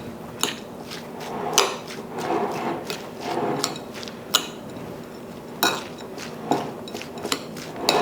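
Metal spoons clink against a dish while sugar is added during wild game turkey and dumplings prep, a series of sharp scattered clinks and clatters at close range with no talking.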